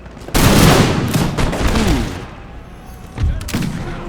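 Musket gunfire from the Empire Total War American Revolution mod: a ragged volley of overlapping gunshots with a booming burst up front, then fading, followed by another cluster of shots.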